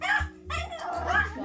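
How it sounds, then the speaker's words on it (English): A dog barks and whimpers in short, urgent bursts, yips mixed with whining, close by indoors as it begs to be let outside. "The dog's running around, looking outside, looking through the window, begging, praying, crying, just to fucking go there"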